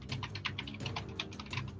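Fast, close typing on a computer keyboard: a quick, irregular burst of crisp key clicks with no talking.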